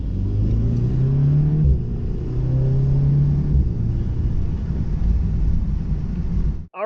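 A 2019 Volkswagen Golf R fitted with a performance air intake pulls away on a test drive, its engine rumbling and revving up through gears with steady drone and shifts, heard close from inside, no talk.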